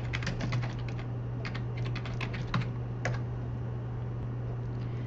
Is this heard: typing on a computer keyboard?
yes